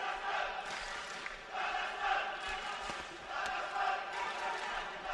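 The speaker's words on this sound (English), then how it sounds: "Hear the crowd chanting for that Kazaki boxer." Boxing crowd at an AIBA World Boxing Championships bout between Ukrainian and Kazakh fighters, chanting in surges for the Kazakh boxer, a dense, steady roar that swells and falls in loud waves throughout.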